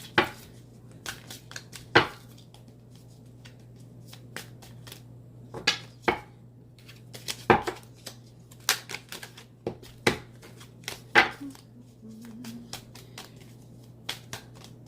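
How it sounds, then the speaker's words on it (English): Crisp riffling snaps of cards being shuffled, in bursts with short pauses, close by over a faint steady hum. "I'm going to let you all see me shuffle the cards"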